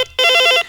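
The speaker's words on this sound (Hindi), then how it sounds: "एक किसान के फोन आ गए।" A telephone rings with an incoming call on a Hindi farmers' call-in radio program, one short electronic trill burst after a brief faint chirp, close and clear with no talk over it.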